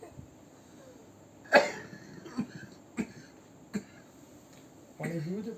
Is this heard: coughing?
yes